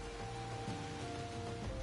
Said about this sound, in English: Ah, finally it stops raining.